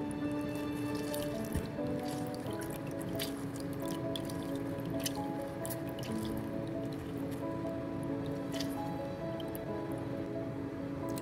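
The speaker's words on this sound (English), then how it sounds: "now we're doing the lemons. And I'm just doing that through my strainer" Lemon juice dripping through a small kitchen strainer, a steady wet trickle with small irregular drips that carries on evenly for several seconds, close and fairly quiet.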